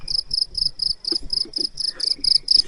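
A cricket chirps close by at Greenlawn Cemetery in Keene, New Hampshire, in a fast, even train of bright pulses that repeats without pause, with faint low rustling underneath.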